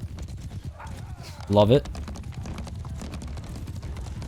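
Horse hooves clip-clop as a horse archer rides in Mount & Blade II: Bannerlord, with battle noise throughout, a brief louder cry in the middle, and someone speaking over it.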